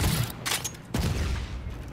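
Gunfire in the multiplayer shooter Call of Duty: Infinite Warfare, a couple of loud bursts of shots with a sharp impact near the middle over a dense, noisy game soundscape, no talk.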